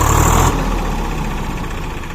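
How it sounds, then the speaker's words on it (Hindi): A tractor engine idles after finally starting, a loud chugging burst for the first half second that then settles into a steady, lower running rumble, close by with no talk. "चलो फाइनली चालू हो गया ये वाला ट्रैक्टर"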